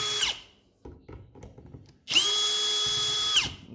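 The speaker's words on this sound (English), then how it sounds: "I think that's my drill making a noise." A power drill runs in loud bursts, first a short one that winds down, then after scattered clicks and handling knocks a steady whine for over a second before spinning down, used while fitting a Speed Tech Lights 14-inch K-Force micro mini light bar.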